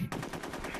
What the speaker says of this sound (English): Just shoot the man's leg.